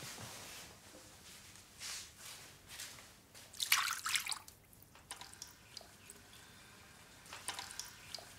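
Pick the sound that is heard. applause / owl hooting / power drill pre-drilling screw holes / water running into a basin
water running into a basin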